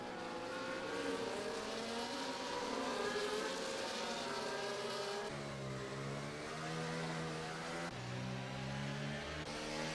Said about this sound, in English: A nice humming to all these engines.